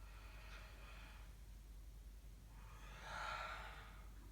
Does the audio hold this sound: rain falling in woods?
no